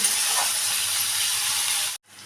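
Cut potatoes frying in hot oil in a pan, a steady loud hiss that runs unbroken for about two seconds before cutting out abruptly and returning softer.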